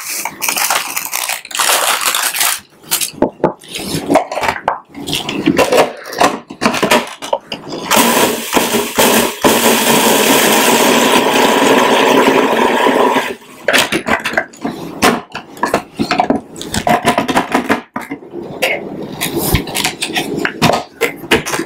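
Dried bread crumbs rattle and patter onto a hot pan, a dense, dry scattering of crisp hits with short gaps and a louder continuous shower in the middle.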